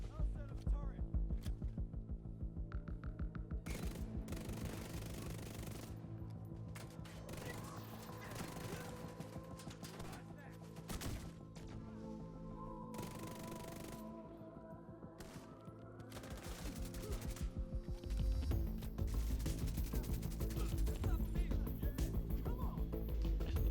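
Loud, sustained automatic fire from a light machine gun in the video game The Division 2, with dense rapid bursts, explosions and game effects layered over a steady music-like bed.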